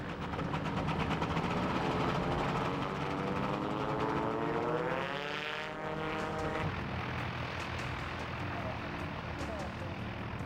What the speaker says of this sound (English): Wait until the last plane is safely off the ground and send off the next.